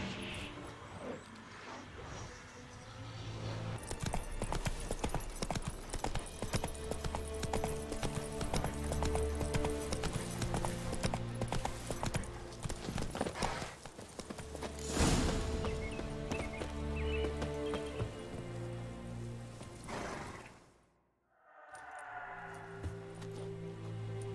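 Hooves of the horse Roach clip-clop steadily across ground in the video game Witcher 3. A low engine-like hum runs underneath, and a short break cuts in near the end before the steps resume.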